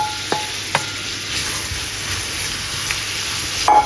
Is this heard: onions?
yes